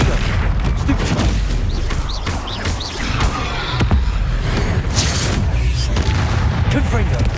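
Confringo fire spells blast in the Hogwarts Legacy video game amid a dense, continuous barrage of booming impacts and crackling bursts, loud and close, with a player shouting spell names over the chaotic combat.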